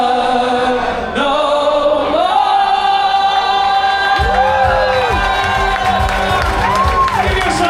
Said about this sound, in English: Give yourself a big round of applause there.